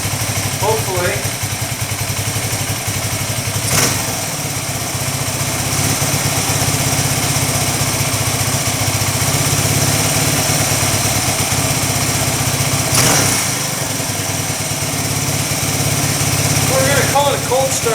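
Single-cylinder engine of a 1982 Yamaha XT200 motorcycle idling steadily after a cold start, a constant loud low rumble running the whole time with brief faint voices at moments.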